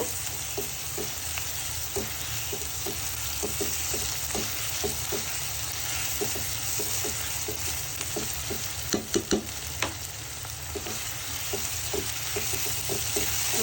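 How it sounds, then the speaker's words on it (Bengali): Ginger paste and cumin paste are stirred into spices frying in a pan. A continuous close sizzle runs throughout, broken by regular scraping strokes of the stirring spoon, and no one speaks. "এর সাথে আমি 1 চামচ জিরা বাটা অ্যাড করে নিব। ভালো করে নেড়ে মশলা মিশিয়ে নিব।"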